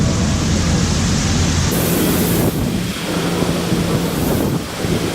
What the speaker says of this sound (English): As I'm sitting here waiting for the rain to pass,